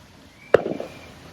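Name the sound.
fireworks going off in Chicago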